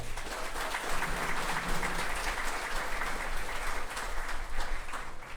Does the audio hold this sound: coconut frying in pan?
no